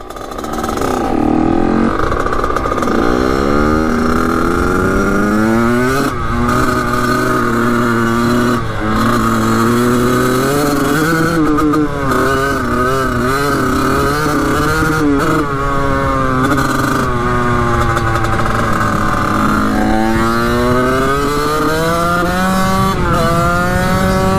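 A Kawasaki KX 80 dirt bike engine revs hard and loud for the whole stretch, its pitch climbing and dropping again and again as it is pushed toward full speed, with no voices.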